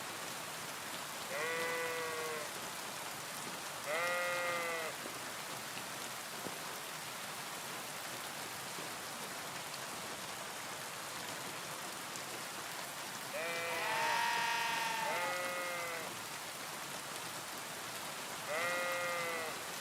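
Sheep bleat in short wavering calls, single and in pairs, over a constant patter of rain in the game Kingdom Come: Deliverance II.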